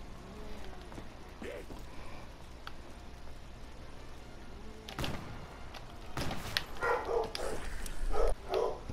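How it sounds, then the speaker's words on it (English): A pet dog barks in the background during a zombie video game session, with several faint, muffled barks toward the end under game sounds. "if my dog don't stop barking"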